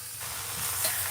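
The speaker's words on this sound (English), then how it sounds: "I forgot my steaks were still here. Flip those bad boys." Steaks sizzling in a hot pan as they are flipped, a steady close frying hiss with a brief louder flare near the end.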